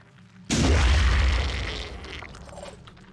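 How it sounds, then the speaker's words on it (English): A grenade explosion in the Phoenix Point video game lands as a single loud, deep boom that hits suddenly, then rolls off into a long, fading rumble with scattered debris crackle. "So another grenade in on both of these."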